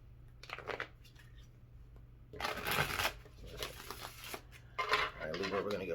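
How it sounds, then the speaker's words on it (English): Tarot cards shuffled in bursts of crisp riffling and flapping, several rapid rounds close to the microphone over a low steady hum. "Libra, we're going to get one more shuffle."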